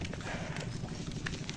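Hooves of a large jumbo cow clopping on hard ground as it walks out of its pen at a farm, a steady close rhythm of thuds amid busy background noise.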